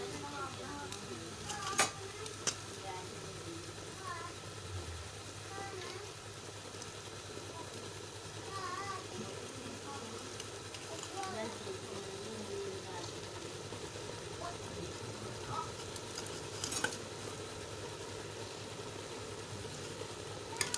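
A bread halwa mixture is stirred in a cooking pot with a faint, continuous scraping and light sizzle, broken by occasional clinks, beneath quiet talking.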